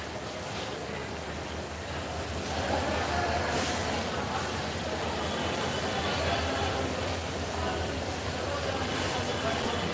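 An intercity train standing at Sylhet railway station as passengers get off, a loud continuous rumble and hiss of the train with broad station noise and voices mixed in throughout.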